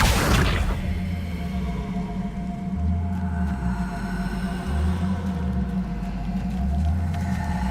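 The Accio spell in the game Hogwarts Legacy opens with a sharp whooshing burst, then settles into a sustained magical hum with low rumbling swells and tonal drones.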